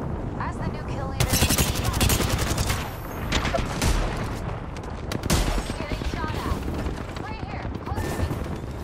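Apex Legends gunfire crackles in dense, rapid bursts throughout, with automatic weapons rattling close and loud, and short pauses between volleys.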